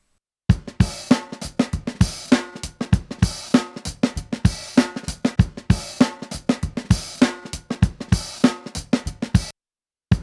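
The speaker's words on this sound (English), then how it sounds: "So here are my drums, first without compression and then with." Uncompressed drum kit playing a steady groove, with punchy kick and snare hits and cymbal wash in a regular rhythm, loud and close, then stopping abruptly near the end.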